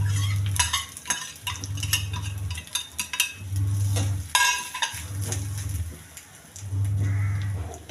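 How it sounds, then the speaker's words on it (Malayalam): Grated coconut fries with mustard seeds in a hot pan, a sizzling hiss broken by repeated rhythmic scraping stirs about every second, close and fairly loud with no speech. "പിന്നെ കുറച്ച് തേങ്ങ അതിനകത്തേക്ക് നമുക്ക് വറുത്തിടാം കേട്ടോ."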